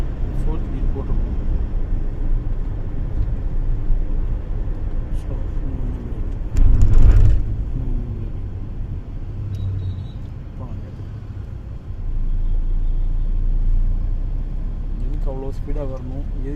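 A car in fourth gear during a driving lesson, its engine rumble and road noise running steadily throughout, with people talking over it and a brief louder thump midway.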